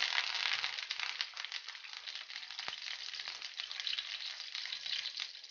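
Curry leaves and a little fennel crackle and sizzle in hot oil for squid masala, a steady bright frying hiss that runs unbroken for several seconds with no talk.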